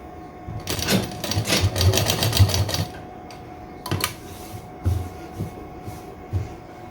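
Sewing machine stitching a suit runs in a fast, steady mechanical rattle for a couple of seconds, then stops, followed by a few short separate clicks and bursts nearby.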